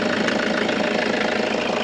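A used Toyota Commuter van engine idles steadily nearby, a constant low rumble with a faint rhythmic knock running through it, no voices.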